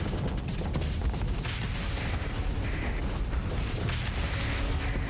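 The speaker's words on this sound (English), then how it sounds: "I love that we've got a high velocity cannon" Heavy, continuous booming barrage of high velocity cannon fire and explosions in the space combat game Starsector, dense and rumbling throughout with no clear gaps.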